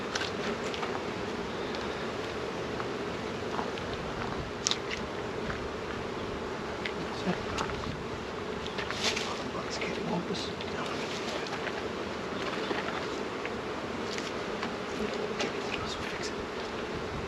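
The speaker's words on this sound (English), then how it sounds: "So many bees." Swarm of honey bees buzzing around an open hive box in a continuous dense drone, close and steady, with occasional individual bees zipping past the microphone and some wind noise.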